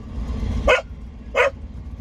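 A dog gives two loud, close barks spaced about half a second apart inside a car, with a low engine rumble underneath from driving through downtown Fort Collins on Colorado Highway 287.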